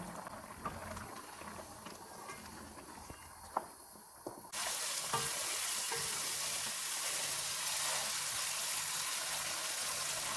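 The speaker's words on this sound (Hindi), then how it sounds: "इसको ऑयल अलग होने तक भूनेंगे" Mutton frying in butter and oil with crushed black pepper, a steady hiss of sizzling fat that jumps sharply louder partway through and stays intense, with a few scraping stirs early on and no talk.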